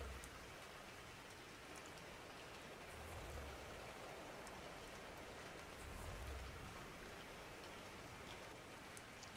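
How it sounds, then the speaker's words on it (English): Steady rain in the video game ARK, a dense continuous hiss of drops falling on surfaces, even and unbroken throughout with no voices over it. "It's raining."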